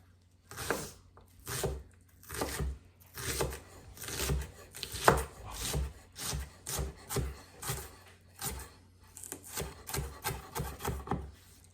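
Knife chopping a strong onion on a cutting board for a freezer meal, with about twenty steady, regular strokes close by and no talk.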